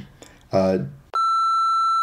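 Brief speech and a mumbled voice come first, then a loud, steady censor beep cuts in sharply and holds as a single pure tone for about a second, covering a strip club name near Camp Lejeune.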